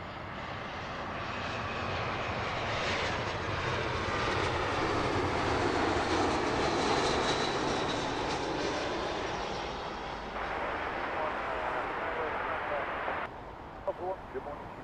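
Fixed-wing airliner on approach to land at Heathrow Airport, its engine roar loud and steady, swelling to a peak midway, then easing as it passes, with radio chatter over it.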